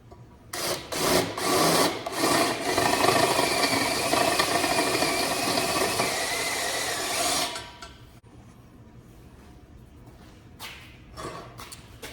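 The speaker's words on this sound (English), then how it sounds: "the number of hacksaw blades I had to go through to get that on there" A hacksaw rasps through metal while cutting a motor bracket for a forklift EV conversion, steady fast strokes for several seconds before stopping abruptly, followed by quieter clinks and handling noises.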